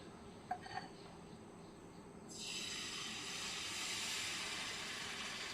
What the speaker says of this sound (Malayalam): ഇവിടെ ദോശക്കല്ല് ചൂടായി വന്നിട്ടുണ്ട്. ഇനി ഇതിലേക്ക് നമുക്ക് മാവ് ഒഴിച്ചു കൊടുക്കാം.